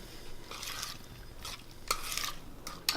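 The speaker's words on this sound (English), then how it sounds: "we're just going to mix these all together" Salad ingredients for a Greek salad are stirred and tossed together in a bowl, giving soft, repeated scraping and rustling strokes with a few sharper utensil clicks, close and alone without talk.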